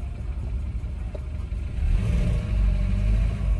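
A car engine idles and revs steadily at close range for a few seconds, its low mechanical drone swelling louder toward the end, with no voices over it.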